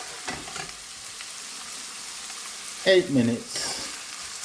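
Onions fry gently on medium heat for a monkfish curry, a soft, low sizzle running under a brief spoken phrase.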